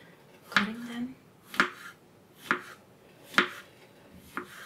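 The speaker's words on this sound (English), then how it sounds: "Now that I washed the mushrooms, I can start cutting them" A knife chops washed mushrooms into thin slices on a board: five crisp, close cuts land at roughly one-second intervals, each a sharp tap against quiet room tone.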